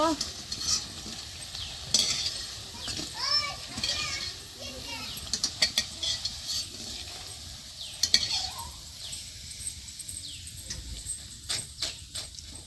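Cabbage pakoras frying in hot oil, with a continuous sizzle and bubbling and intermittent clinks and scrapes from a utensil, heard up close while children's voices and chatter carry on in the background.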